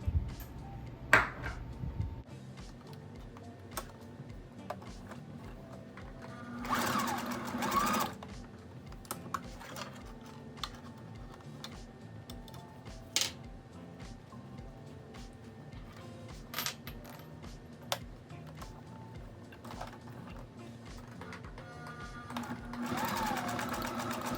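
A sewing machine stitches nylon webbing for a horse halter in short bursts of fast rattling, separated by pauses, close and fairly quiet, with someone speaking between runs.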